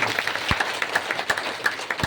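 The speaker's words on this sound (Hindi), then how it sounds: "एक बार जोरदार तालियों के साथ उनका।" Loud, steady applause from a gathered audience honouring the members of the Shivdayal Trust, dense clapping with a few sharper claps standing out.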